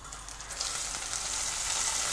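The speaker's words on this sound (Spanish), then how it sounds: "en esta cacerola voy a freír, voy a rostizar estas carcasas, la piel de los camarones" Steady hissing sizzle of shrimp shells frying in a hot pot, close and constant, no voices.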